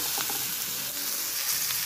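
Onion pieces frying in a pan, a quiet steady sizzle with a few soft stirring sounds, no talking.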